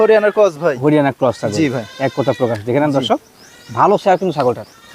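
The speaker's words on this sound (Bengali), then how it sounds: "ছাগল এটা হচ্ছে" A high-quality Haryana goat, a tall, long-bodied breed, bleats repeatedly in wavering, nasal calls at close range, with people talking around it at a post-Eid goat sale.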